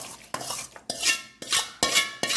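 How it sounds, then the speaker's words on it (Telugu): A spoon works spice tempering with asafoetida into amla pickle, giving five distinct scraping, clinking strokes against the container at a slow, regular pace, fairly close and with no voices. "ఇప్పుడు ఈ తాలింపుని ఇందులో కలుపుతున్నాను."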